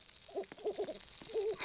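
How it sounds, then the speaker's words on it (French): An owl hoots in a forest survival video game, several soft low hoots spaced across a short moment, close and clear over faint background hiss. "Le hibou"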